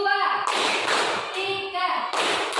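A class of children clapping their hands together in rhythmic bursts, broad noisy claps mixed with children's voices calling out in unison.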